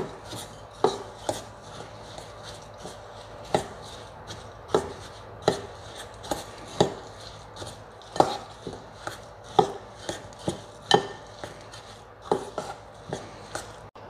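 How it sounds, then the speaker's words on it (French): Banana biscuit dough being stirred and pressed with a fork in a bowl, a series of sharp, irregular taps and scrapes repeating every second or so, close and clear with no talking. "je vais brasser le tout à la fourchette pour bien incorporer"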